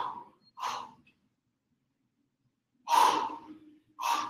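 Heavy, forceful breaths from a person mid-workout during a total body sweat session: a few loud gasping huffs, then a pause of near silence and two more strong exhales close to the mic.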